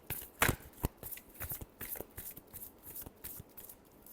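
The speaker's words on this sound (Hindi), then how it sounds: "Last shuffle." Tarot cards shuffled by hand, a quick run of crisp riffling flutters and soft slaps with one sharp burst near the start, close and fairly quiet with no talking.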